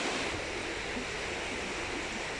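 Black Sea surf washes onto the shore at Prymorske in Ukraine as a steady, broad rush of breaking water, close and continuous without distinct individual waves.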